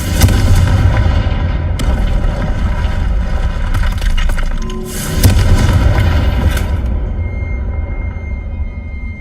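The Confringo explosive spell cast in Hogwarts Legacy goes off as booming, artillery-like blasts with a sustained low roar, two sharp crackling bursts partway through, and a rumbling tail that fades toward the end.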